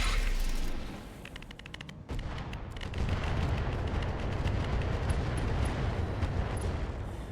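Mech weapons fire in RogueTech against a Black Knight, a dense sustained barrage of rapid gunfire and booming impacts, loud and continuous after an opening volley, with rattling repeated shots throughout.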